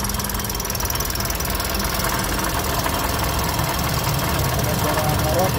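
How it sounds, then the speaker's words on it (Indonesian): Rough, knocking engine of a Toyota Calya / Daihatsu Sigra running at start-up in a workshop, a steady loud grinding rumble that continues through the whole stretch. "kalau teman-teman mengalami mesinnya suara kasar ngorok seperti ini pada saat dihidupkan"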